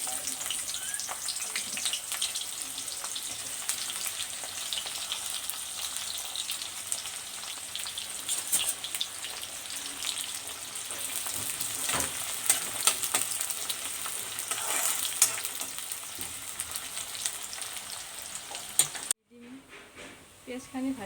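Onions sizzling and frying in a hot pan while cooking Assamese rohu fish curry, a steady broad hiss with occasional stirring, close and continuous, cutting off sharply near the end.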